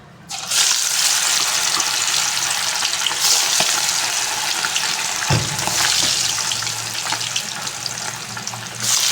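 Chicken pieces fry in hot oil with a steady, loud sizzle that fills the whole stretch, broken by one or two soft stirring knocks.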